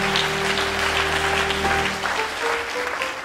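A church congregation claps and applauds steadily, a dense sustained patter with a held organ or keyboard tone underneath that fades partway through.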